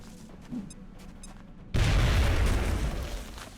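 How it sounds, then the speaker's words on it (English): A grenade in XCOM Enemy Within detonates with a sudden loud blast after a quieter stretch, then a rumbling roar that slowly fades over the next couple of seconds. "now we can start things off with a grenade"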